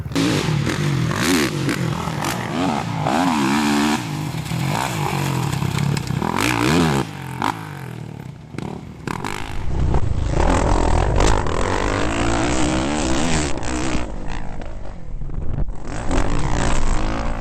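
A 2009 Kawasaki KX450F four-stroke motocross bike rides hard, engine revving up and down in repeated sweeps, loud and close, with a rough, throaty roar and wind buffeting in the second half.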